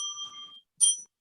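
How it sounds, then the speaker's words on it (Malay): Two rings of a small bell mark the end of presentation time at a school cooperative competition, the first sustained and fading, the second a short bright strike after a brief pause, clear and alone. "Selepas itu akan kedengaran 2 bunyi loceng"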